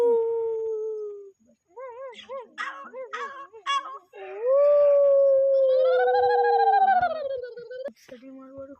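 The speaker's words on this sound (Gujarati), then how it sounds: "કૂતરાનો અવાજ" A dog howls in long wavering tones, breaking into short yelping howls before rising into a sustained, loud, drawn-out wail.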